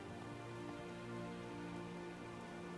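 Steady rain patters down in the medieval city-building game Manor Lords, a soft, even wash of falling drops that lasts briefly with no voices over it.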